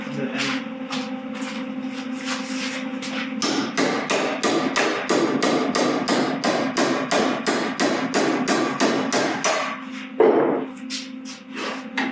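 Rapid, regular hammer blows ring on metal up close while building a horse hoof stand, a long steady run of sharp clanks with a brief pause before a few more strikes.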